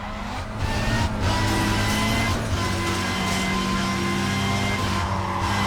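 Bugatti engine roaring in the racing video game NFS Carbon, a loud, steady drone with tire squeal and skidding layered on top, with a few brief breaks in the first second.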